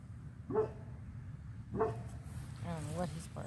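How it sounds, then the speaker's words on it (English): A dog barks in a garden greenhouse, two short barks spaced about a second apart at moderate distance, followed by a higher whimpering or yipping sound, with steady low background noise. "I don't know what he's barking at."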